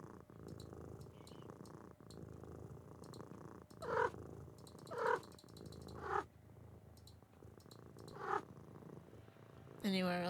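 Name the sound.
cat purring while being petted in video game A Little to the Left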